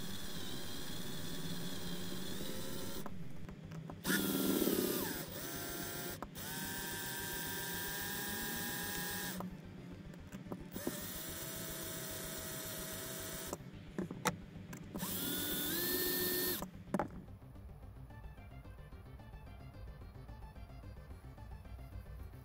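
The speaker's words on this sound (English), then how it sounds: "I'll start off as usual, drilling out the 2 rivet posts." A power drill whirs in repeated bursts drilling out rivet posts, stopping and starting with short gaps, close and loud, followed by faint rattling of metal bits.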